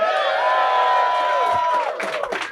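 A live comedy show audience cheers and whoops loudly in a short, sustained burst that tails off after about two seconds.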